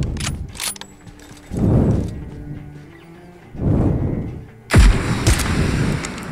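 Gunfire in a PUBG Mobile Payload 2.0 match, with a couple of quick clicks followed by rumbling explosive booms, the loudest one striking sharply near the end.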